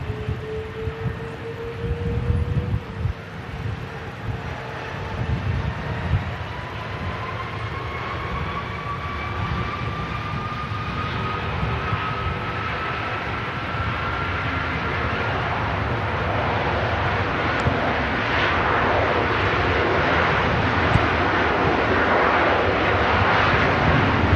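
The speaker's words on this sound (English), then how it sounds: "Couple of Trents strapped to the engines here." An Airbus A330 airliner with twin Rolls-Royce Trent engines at Manchester Airport, its loud broadband engine roar and rising whine sustained and building steadily over the whole stretch, no talk.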